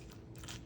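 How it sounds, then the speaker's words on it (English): A brief, close crunch of crispy browned cheese as a bite is taken from steak mac and cheese, faint and alone. "crunch from the cheese too"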